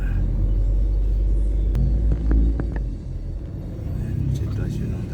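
Road traffic in a Philippine street, a steady low rumble of passing cars and vehicles close by, loud and continuous throughout, with a brief swell midway and people talking over it.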